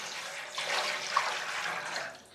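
A litre of water is poured into a container for spices, giving a short, fairly quiet splashing gush that swells, holds steady and then tapers off.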